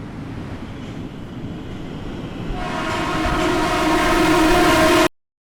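Train passing through a station in Japan, its rumble growing steadily louder before a sustained, loud horn blast joins in and the sound cuts off abruptly.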